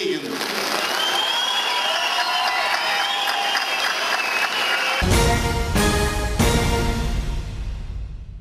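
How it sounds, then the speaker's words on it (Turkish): Audience at a Turkish expatriate cultural evening in Germany breaks into loud, sustained applause, a dense clatter of clapping that grows heavier and more forceful partway through and continues to the end. "seyircilerden büyük alkış aldı"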